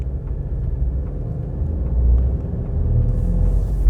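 A medium SUV's engine rumbles steadily as the driver gives generous throttle in S mode on an off-road test, with a deep drone that swells louder around the middle and again near the end, no talking.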